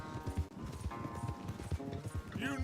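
A horse races at full gallop in Red Dead Redemption 2, its rapid rhythmic hoofbeats close and prominent, with some voices and other game sounds mixed in.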